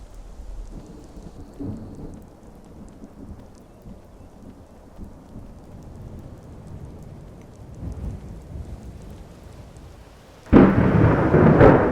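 Steady rain with rolling thunder in the modded Skyrim Special Edition game in survival mode, a low rumbling backdrop that swells into a loud, dense downpour near the end, with no talk.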